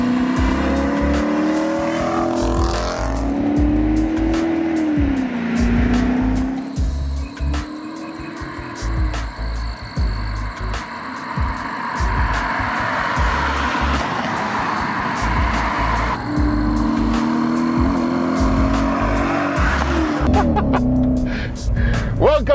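A 2012 Hyundai Genesis R Spec being driven, its engine note rising and falling through repeated accelerations and gear changes, heard steadily and fairly loud throughout, with an occasional voice in the cabin.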